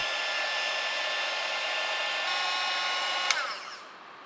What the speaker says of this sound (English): use a heat gun to shrink the tubing